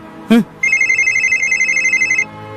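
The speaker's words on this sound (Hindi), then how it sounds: "अब एसपी साहब का फोन आ रहा है, देखो।" After a brief voice, a mobile phone rings with an incoming call: a loud, rapidly repeating electronic ringtone that lasts under two seconds and then cuts off.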